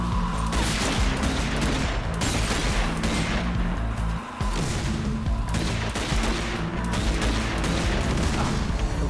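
A grenade explosion and dense gunfire in Zombie Army 4: Dead War, loud and continuous rapid shots with a heavy booming burst. There is a brief lull partway through before the fusillade carries on.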